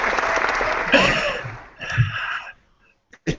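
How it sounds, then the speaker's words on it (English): Brief burst of studio audience applause that fades quickly into near silence, ending with a couple of faint isolated claps. "It took me a moment to get to that applause"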